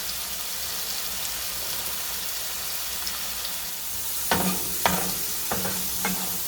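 Flat beans and potatoes fry in a pan with a steady soft sizzle, then several sharp stirring scrapes near the end.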